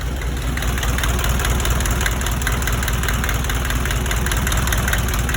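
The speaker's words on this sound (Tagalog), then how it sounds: "Boss, ito yung makina mo." An old-model 4D30 diesel engine idles steadily and close by, with a rough, knocking low rumble that never lets up.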